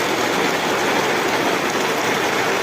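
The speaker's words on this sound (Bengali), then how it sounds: "বৃষ্টির শেষ নাই।" Heavy rain pours down in a steady, dense broadband wash, loud and continuous with no pauses or voices.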